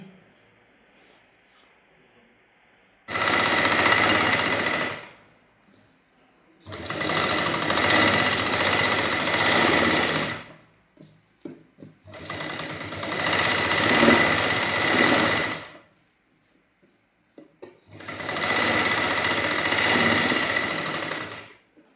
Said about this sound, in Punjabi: ਹੁਣ ਆਪਾਂ ਦੂਸਰੀ ਸੀਨ ਲਾਵਾਂਗੇ